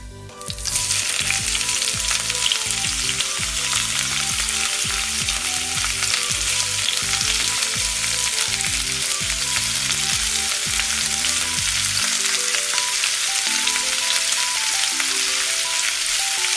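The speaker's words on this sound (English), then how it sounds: "When the meat is marinated, heat up a pan and fry the meat on the pan." Marinated meat for Goan cheris maas fries in a hot pan with a loud, steady, continuous sizzle that holds throughout, heard close with no voices.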